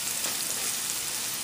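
Ginger and pepper flakes fry in a pan for a persimmon, cranberry and pomegranate chutney, giving a steady, dense sizzle close by with even loudness and no talking.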